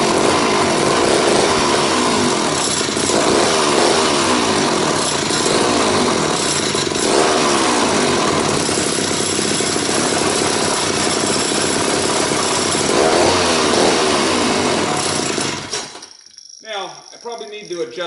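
A McCulloch MAC 15 chainsaw, newly running after carburetor repair, drones loudly and close with a rough, buzzing two-stroke rattle and some uneven revving before cutting out near the end, leaving quieter handling noises.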